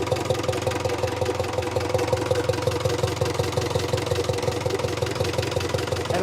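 A 1974 Mercedes O309 with an OM314 diesel engine idling low with the idle turned down, a steady rhythmic clattering chug, close and continuous throughout.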